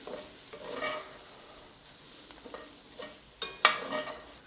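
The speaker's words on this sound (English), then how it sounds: "let's just mix this up a bit here" A spoon stirs dahl with ginger powder in a pot over low heat, soft scraping and gentle sizzling, ending in a couple of sharper clinks against the pot, close and alone.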